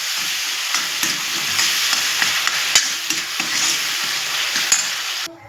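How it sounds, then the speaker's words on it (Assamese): Hot water poured into a pan of softened tomatoes makes a steady, loud hiss and sizzle with a few faint stirring knocks, cutting off near the end. "বিলাহীখিনি সিজাৰ পিছত দি দিছোঁ গৰম পানীখিনি"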